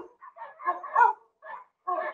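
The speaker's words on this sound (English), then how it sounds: "This is what it sounds like with barking dogs going on in the background." Dogs bark in the background in several short, muffled bursts with brief pauses between them, fairly faint and heard without any speech.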